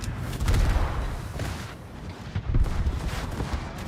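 Cruiser secondary guns firing in a naval battle video game, a series of heavy booming shots several times over a few seconds, loud and close with rumbling tails between them.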